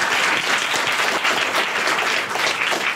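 An audience claps for a children's guitar teacher, a dense, steady burst of applause throughout with no talking heard over it.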